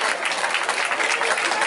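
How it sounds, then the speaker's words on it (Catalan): A crowd at a children's gathering in Vinaròs gives brief, dense applause, steady and fairly loud for under two seconds. "un fort aplaudiment a Benicarló, a la CETA"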